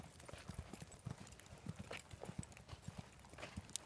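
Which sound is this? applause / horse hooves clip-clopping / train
horse hooves clip-clopping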